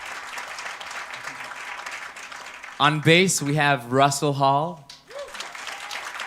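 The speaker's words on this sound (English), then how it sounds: "Let's give him a round of applause." Audience applause for a band's guitarist at a live concert at Tribeca Performing Arts Center, steady clapping for the first few seconds that continues more faintly beneath a man's spoken introduction.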